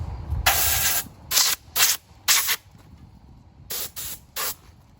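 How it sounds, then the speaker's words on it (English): Bursts of pressurized spraying from an air-powered gun spraying engine cleaner during a McConnel power arm rebuild: one long hiss followed by several short, sharp blasts with pauses between. "it'll suck up whatever I put this hose in and spray it all out"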